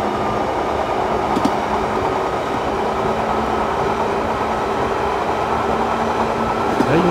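A Tokyo commuter train rolls through Koenji station in the PS3 game Railfan Tokyo, a steady loud rumble of wheels and motor with a faint tonal hum, plus brief clicks near the start and end.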